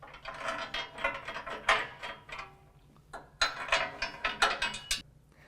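Factory bolts with Loctite are tightened to hold a cross member brace during a 6-inch lift kit install. A ratchet gives quick bursts of close, sharp clicks, with short pauses between the bursts.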